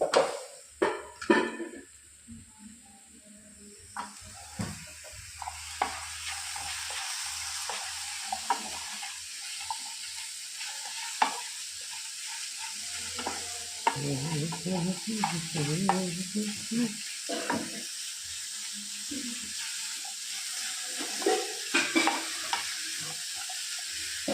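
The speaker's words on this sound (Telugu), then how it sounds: "ఎర్రగడ్డలు, కొత్తిమీర, జీలకర్ర అన్నీ వేయించేసి, టమాటాలు కూడా కొంచెం వేయించేస్తాం." Onions, coriander, cumin and tomatoes fry in a pan with a steady sizzle, broken by repeated stirring scrapes and occasional clinks of a utensil, close and continuous with no talking.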